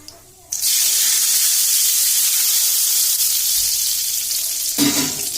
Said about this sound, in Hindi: घी हमारे तरकारी के लिए गर्म हो गया है। अब इमे हम थोड़ा सा 2 मिर्च डाल लिए,